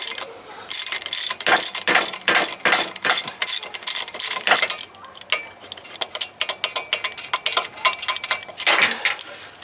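A ratchet clicks in fast irregular bursts while bolts and a nut are loosened from the swingarm of a Yamaha XT660R motorcycle, close and sharp, with brief pauses between runs.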